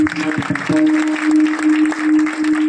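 A crowd claps along at a Harinam Saptah kirtan in Kharbala, a dense, steady patter of applause with a sustained ringing drone and rhythmic thumps underneath.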